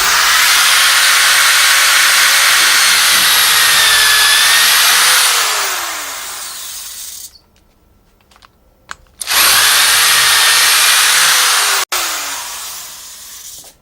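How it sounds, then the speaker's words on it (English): A loud power drill with a 1/2-inch bit whines steadily for several seconds boring through a skill saw's base, winds down, pauses briefly, then roars again at full speed. "With a 1/2-inch drill bit, I put a hole straight through the base of the skill saw."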